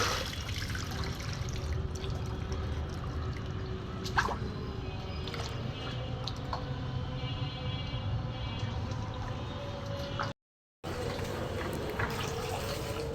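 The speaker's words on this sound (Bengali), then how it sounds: "পাতাটা সরাইয়ে দিলেই পানি যাচ্ছে" Rainwater draining off a flooded rooftop, a continuous close trickle and gush of running water with occasional drips, steady throughout with a brief dropout near the end.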